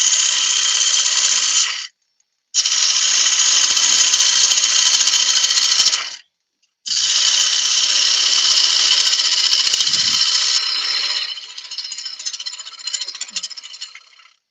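A spindle gouge cuts wood on a lathe with a loud, steady high scraping hiss in long passes, stopping twice briefly, then turning rougher and more fluttery before fading out near the end.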